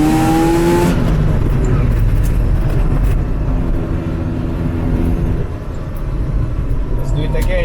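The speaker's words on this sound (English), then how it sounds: "Right now I step on the gas really slowly." A first-generation Mazda RX-7 SA22C fitted with Fitech EFI runs loud and close, its engine note rising gradually as the throttle is pressed slowly, then settling to a steady rumble.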